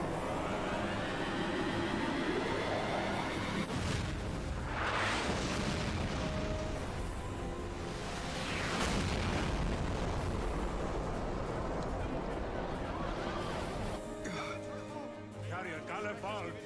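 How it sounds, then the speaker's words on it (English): Cannon fire and explosions in the Final Fantasy XII video game, heard as a dense, continuous booming battle rumble with characters speaking over it. "He's moving out of the way so they can fire the cannon."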